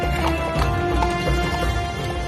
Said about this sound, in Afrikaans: Vroeg die volgende oggend het Kasim skelm die dorp uitgesluip met elke perd wat hy besit het